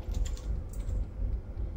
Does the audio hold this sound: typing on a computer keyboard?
yes